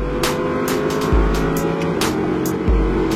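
An Audi R8 RWS accelerates hard on the Le Castellet race circuit: a loud, continuous engine roar from inside the car, with two brief dips at gear shifts.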